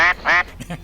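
Two quick, nasal duck quacks in succession, loud and close, followed by a faint softer sound.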